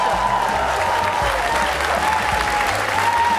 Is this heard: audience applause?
yes